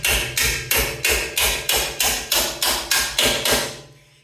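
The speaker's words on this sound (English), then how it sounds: "I should be able to just hammer this in" A bolt is hammered into a Toyota Tundra leveling strut with about ten loud, evenly spaced metallic blows, each ringing briefly before the next, the last strike fading away.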